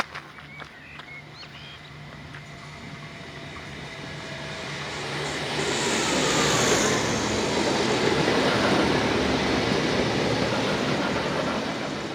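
A V/Line standard gauge passenger train rumbles into Seymour station, its low roar and rolling wheel noise swelling louder over several seconds and then holding steady, close by.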